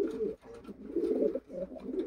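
Racing pigeons coo in soft, low, repeated throaty phrases close by, a rhythmic series of three or four burbling calls with brief gaps, no talk over them.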